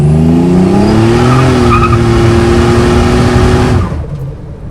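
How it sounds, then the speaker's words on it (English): A 1987 Buick T-Type with a turbocharged V6 and performance modifications revs loudly and steadily, its engine drone rising slightly before cutting off abruptly as the throttle closes, with a whooshing release fading out at the end. "Gotta love that blow-off valve. It sounds awesome."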